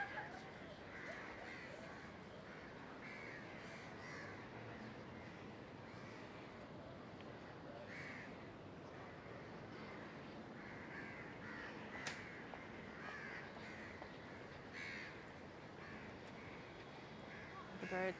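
Crows caw from trees at sunset during a city walk around Singapore's Marina Bay and Boat Quay, a continuous dense chorus of cawing over a steady urban background.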